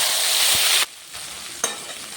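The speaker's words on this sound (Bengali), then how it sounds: "গরম তেলের মধ্যে হিং ফোড়ন দিলাম। এবার এর মধ্যে আছে আদা, জিরে, শুকনো লঙ্কা আর ধনের গুঁড়ো" Asafoetida and spices hit hot oil for a tempering: a loud hissing sizzle at first, then it drops off sharply, followed by quieter frying with one brief clatter near the end.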